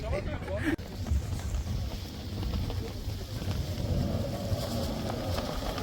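Wind gusting steadily over a desert safari site, a continuous broadband rush with low rumbling buffeting against the microphone, with a brief knock near the start.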